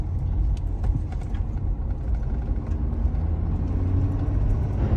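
A truck hauling a trailer merging onto the interstate, heard as a steady low engine rumble and road noise from inside the cab, constant and moderately loud with no talking.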